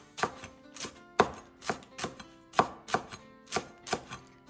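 Fresh mint for a Lao tuna laab is sliced with a knife on a board, about a dozen crisp, close chopping taps in an uneven steady rhythm with quiet gaps between.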